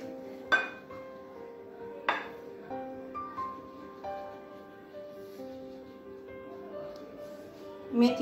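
Spoon clinking against a bowl while paratha ingredients are mixed, a few sharp metallic knocks spaced seconds apart with softer scraping between, close by and moderately loud, no talking.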